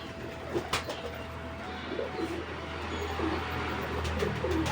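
A spotted dove coos in short, repeated low phrases at moderate distance over a steady background hum, with a few knocks early on.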